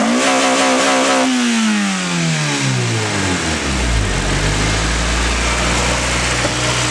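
Honda Civic engine revving hard into VTEC, then falling off as the pitch sweeps steadily down toward idle; loud, close and alone, with a deep rumble settling at the end.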